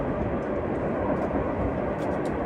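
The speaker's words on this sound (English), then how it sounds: "I guess we are in the train zone." A train passes near a house in Round Rock, Texas, heard as a steady, loud low rumble through the whole moment, with faint higher clatter now and then.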